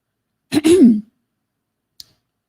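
One short, loud throat clearing right at the microphone, followed by silence and a faint click.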